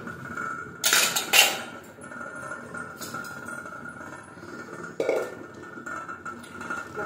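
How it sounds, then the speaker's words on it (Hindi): Raw mutton is washed by hand in a metal pot, with scattered clanks and clinks of meat and metal, a few sharper knocks standing out over a low wet background. "मटन को भलसे धोई"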